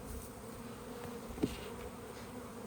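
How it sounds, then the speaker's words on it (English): Honeybees fly around hive stands at a beekeeping site, a steady faint buzzing hum with one brief closer pass midway. "See all these bees coming back?"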